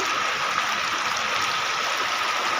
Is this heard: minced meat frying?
no